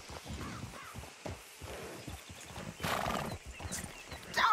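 A horse in the video game Red Dead Redemption 2 whinnies amid clip-clopping hooves, with a crow cawing nearby; the sounds are moderate and close, with a game-like, produced quality.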